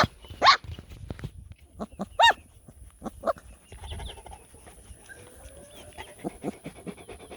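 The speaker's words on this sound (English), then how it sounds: "These little guys are definitely starting to discover their bark." Young puppies let out a few sharp, high yips and little barks spaced apart, with panting and quiet shuffling between them, close by indoors.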